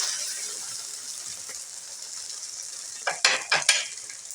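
A vegetable paratha sizzles steadily on a hot pan, the frying hiss running throughout, then a large spoon scrapes and flips it with a few quick metallic clatters near the end.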